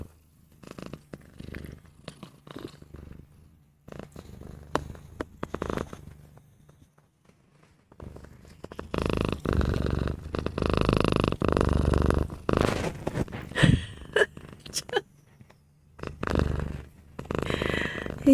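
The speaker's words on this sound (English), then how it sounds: "Live purring. Dolly purring show." Dolly the cat purring up close, a soft rumbling purr that starts in intermittent bursts and then swells into a louder, continuous rhythmic purr with breathy pulses, no talking over it.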